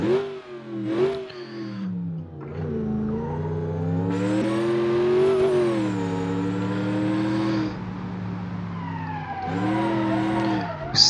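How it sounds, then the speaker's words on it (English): A supercharged American car engine in the BeamNG.drive driving game revs and accelerates, its loud tonal whine rising and falling through several gear-like sweeps, with a brief tire squeal. "when we take another car, maybe an American, then we had the supercharger sound."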